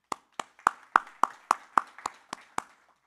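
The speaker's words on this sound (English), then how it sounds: "Round of applause for yourselves." About ten sharp hand claps ring out at an even, steady pace at a New York tech meetup at Civic Hall, a single pair of hands rather than a crowd, clear against silence.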